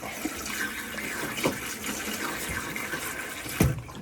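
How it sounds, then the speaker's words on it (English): Leftover water is poured into the sink drain trap of a Jayco 27BHB travel trailer during winterizing, a steady close gurgling trickle with a few louder splashes and no talking. "we're going to pour some of this residual"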